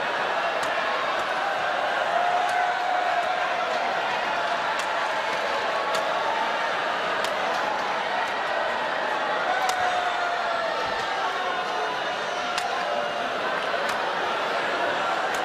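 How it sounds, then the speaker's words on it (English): Spectators at the 2012 All England Open badminton finals booing, a sustained murmuring crowd roar with scattered louder voices, sharp shuttle hits and courtside sounds throughout. "some boos from the crowd"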